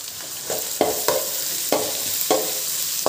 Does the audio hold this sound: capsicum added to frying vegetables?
yes